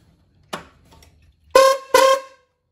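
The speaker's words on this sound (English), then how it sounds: "I like to add horns to my tractor, so if I have trouble, I can honk at somebody" A faint short click, then two loud tractor horn honks in quick succession, the second a beat after the first, close by with no talking.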